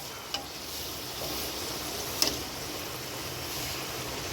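Kajjikayalu, sweet stuffed dumplings, fry in shallow oil with a steady, even sizzle and a few faint pops, close and continuous, with no voices.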